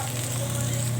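Corned beef and egg stir gently in a hot frying pan, giving a steady close sizzle with faint scraping, no voices.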